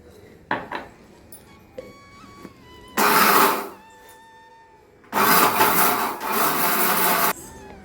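Jaggery and cardamom pods grind in a kitchen mixer in two loud, harsh whirring bursts, a short one and then a longer one, with small clatters and knocks before and between them and no one talking.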